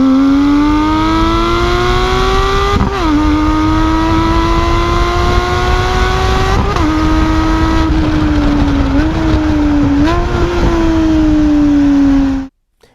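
A Porsche 718 with the 4.0 engine and a JCR aftermarket exhaust revs loudly and steadily, its pitch rising smoothly through each pull and dipping briefly at several shift points before cutting off at the end, with no talking.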